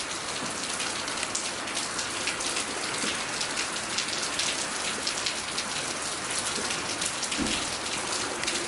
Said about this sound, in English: Another day of rain.